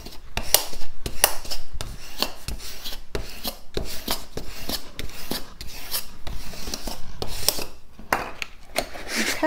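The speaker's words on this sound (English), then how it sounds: "I'm going to flip this over and burnish it down really well." A tool burnishes paper down for a gingerbread mini album, making a steady series of close, scratchy rubbing strokes in a quick back-and-forth rhythm.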